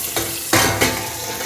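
Mustard seeds, cumin and black pepper fry in a pan over a village cooking fire, a loud crackling sizzle with two sharp bursts as they are added and stirred.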